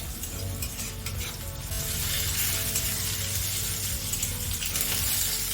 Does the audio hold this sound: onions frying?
yes